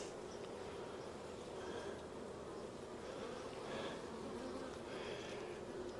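Honeybees buzz steadily around an open nuc and production hive during an inspection, a faint continuous drone with individual bees passing closer now and then, no talking.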